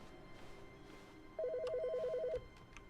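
A telephone rings once inside the video game The Stanley Parable, a single electronic trill lasting about a second over a quiet background hum.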